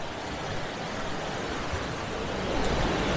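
A big river rapid rushes in a steady, loud, unbroken roar of churning water, with no voices.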